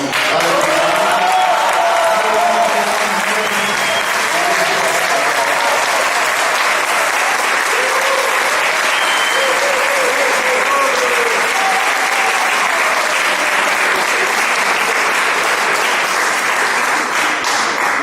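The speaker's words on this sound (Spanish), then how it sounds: "Quiero que recibamos con un fuerte aplauso de manera muy cariñosa al Padre Fer Serrano." Long, loud applause from a large crowd welcoming a priest at an evening gathering, continuous broadband clapping with faint voices and cheers mixed in throughout.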